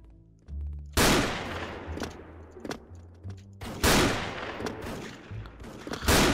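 A Barrett M82 sniper rifle fires in the online shooter Special Force. Several loud, booming shots ring out with a crack and a long echoing tail, spaced a second or so apart.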